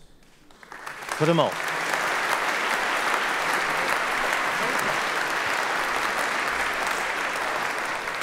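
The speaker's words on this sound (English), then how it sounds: "your applause for the Rotterdam Symphony Chorus" A large ceremony audience bursts into sustained, dense applause that swells after a brief spoken line and holds steady and loud to the end, with a faint voice at the start.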